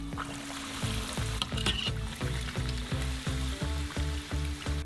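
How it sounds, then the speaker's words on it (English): A batter-coated burger deep-frying in hot oil gives a loud, steady sizzle with rhythmic bursts of bubbling and crackling, close by and with no one speaking. "The final frying is left."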